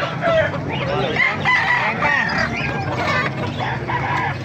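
A fighting cock crows loudly and close by amid clucking fowl and other birds, with background voices in the mix.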